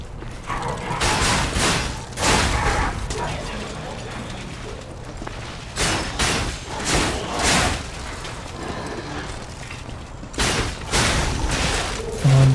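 Gunfire in the video game Lies of P: sharp, loud shots ring out in irregular bursts over mechanical game ambience.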